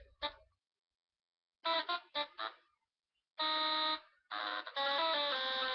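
Nintendo DSi sound effect set to buzzer: a few short electronic tones, then two longer sustained buzzing bursts, loud and close with no talking.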